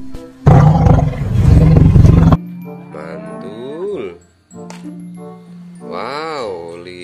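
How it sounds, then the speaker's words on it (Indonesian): A tiger's roar opens loud and harsh for about two seconds, followed by swooping, growling animal cries in an animal-sounds clip for children. "harimau"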